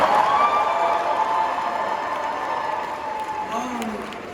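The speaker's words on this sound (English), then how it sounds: "applause for my brother Justin Owens for this beautiful" Audience applause, a steady wash of clapping that is loudest at the start and slowly thins out, with a few faint voices mixed in.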